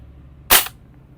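A VFC Maruyama ISO556 airsoft gas blowback rifle fires a single loud, sharp crack up close. The shot is followed by a quick fading tail and then quiet.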